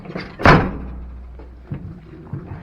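Door of a used square body Chevy truck slammed shut once, a loud close thunk followed by faint rattles and small knocks.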